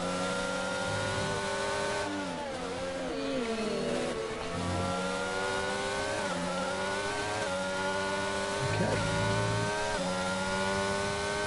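F1 race cars in F1 2022 at the China circuit howl steadily, engine tones sweeping up and down through gear changes in a continuous loud drone.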